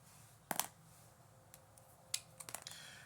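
Quick marker or pen strokes sketching a fire on a board, a few sharp scratchy swipes near and fairly loud against a quiet room, clustered at the start and again near the end.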